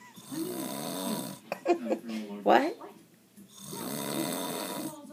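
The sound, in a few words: a man snoring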